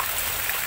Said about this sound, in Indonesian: Ini keluar air seperti mata air yang saking derasnya hujan